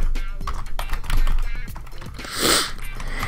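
Typing on a computer keyboard while laying out an invitation card: busy, irregular clicks and taps run throughout at close range, with a louder burst partway through, and someone talks over them.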